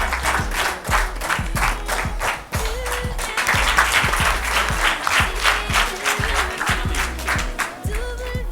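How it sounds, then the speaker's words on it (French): Enthusiastic audience applause at the final of a children's academic competition, dense sustained clapping from a large crowd with steady rhythmic claps and low rumble, loud and continuous. "Maximum d'applaudissements, s'il vous plaît."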